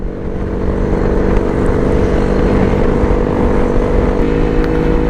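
A motorcycle engine idles and rumbles steadily nearby, a loud low throbbing drone with no talking.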